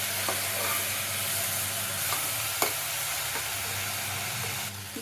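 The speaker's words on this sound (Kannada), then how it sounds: "ತರಕಾರಿ ಚೆನ್ನಾಗಿ ರೋಸ್ಟ್ ಆಗಿದೆ." Vegetables roast in a pan for wheat rava pulao while being stirred, a steady frying sizzle with faint scraping stir strokes throughout, close and continuous with no talking.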